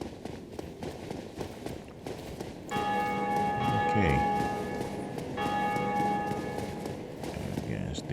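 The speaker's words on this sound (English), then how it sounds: "bell again." Church-like bell tolling in Dark Souls Remastered, a steady sustained ringing that starts partway through and swells over faint footstep and ambient game sounds, with a short pause before ringing again.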